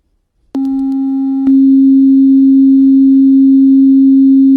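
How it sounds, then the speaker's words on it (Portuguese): A low, steady sine-like tone presented as a harmonic of copper's frequency starts abruptly, with a brief higher overtone at first, then holds loud and unwavering alone to the end. "Isso é um harmônico do cobre."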